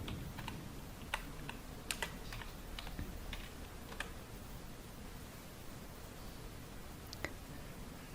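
Quiet, steady clicking of a computer keyboard as a short word is typed, with a few sharper key taps standing out, close and alone with no talk.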